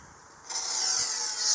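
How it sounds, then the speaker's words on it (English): An aerosol spray nozzle sprays rust protection inside the seat tube of a steel Phoenix Dawes bike frame. A faint lead-in gives way to a steady, loud hiss of spray that lasts to the end. "spraying up and down the seat tube"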